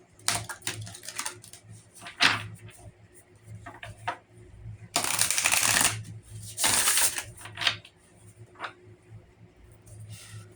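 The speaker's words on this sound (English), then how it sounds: "We're going to shuffle 3 times." Tarot cards being shuffled by hand at close range, a soft riffling and flicking with two louder bursts of dense shuffling in the middle, separated by lighter taps and rustles.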